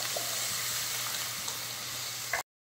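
Beans, potato and radish cooking with spices in a pan as water goes in to simmer, a continuous even sizzle and hiss that cuts off abruptly near the end.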